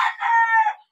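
A pure Red Kelso gamecock rooster lets out one short, loud, close crow lasting under a second, with no talk over it.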